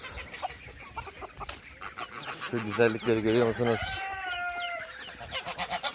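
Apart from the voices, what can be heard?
rooster and hens clucking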